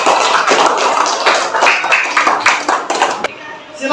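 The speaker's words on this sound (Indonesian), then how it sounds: "Tepuk tangan dulu." A group of people clapping their hands together in a classroom coaching session, a dense burst of overlapping claps that is loud and close, with voices heard over it.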